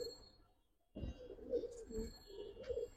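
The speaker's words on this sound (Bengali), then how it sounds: "অনেক সুন্দর, অনেক বেস্ট কবুতর।" Giribaz pigeons coo softly at a pigeon market, with low, rolling coos beginning after a quiet second and continuing close by alongside faint higher bird calls.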